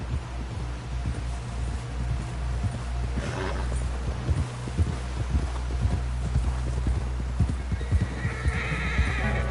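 Rhythmic horse hoofbeats clop along steadily over a low rumble in the video game Red Dead Redemption on PS4, with a horse's whinny rising partway through.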